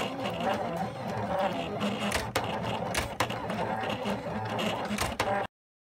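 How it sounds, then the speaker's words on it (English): A cutting machine making a foil quill pass on an acrylic coaster, a fairly quiet mechanical whirring and clicking with small knocks and motor movements, running steadily close by before stopping abruptly. "And then we're going to hit start on our machine with a speed of 4 and a force of 8."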